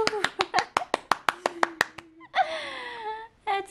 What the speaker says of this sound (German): Warte, ich muss klatschen.